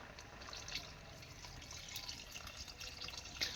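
Water is poured into a pot of mango lentil dal (aam dal) on the stove: a faint, steady trickling wash with small splashy flickers throughout, no voices.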